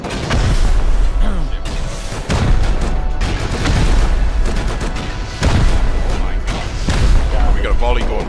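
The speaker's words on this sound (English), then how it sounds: "We got a volley going." Rust rocket volley detonating in a clan raid war, a run of heavy booming blasts rolling one after another with dense rumbling low end, mixed with talk from players.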